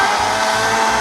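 A blender grinds chopped pear and onion with a little water, a loud steady whirring roar that runs without pause, with no talk.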